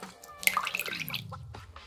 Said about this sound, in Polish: po łokciach nie cieknie, ale trochę kapie tutaj, minimalnie